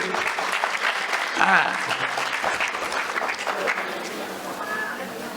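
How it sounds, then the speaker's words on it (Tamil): Audience at a Tamil pattimandram debate event applauding a speaker, a steady burst of clapping mixed with crowd noise and a voice, easing off toward the end. "அது பார்த்தீங்கன்னா அவருக்குன்னு ஒரு கைதட்டு வருது"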